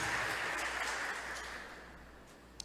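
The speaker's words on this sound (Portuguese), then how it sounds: "Vamos aplaudir ao Senhor" A church congregation applauds the Lord in a sustained, busy clatter of many hands that starts fairly strong and slowly fades away toward the end.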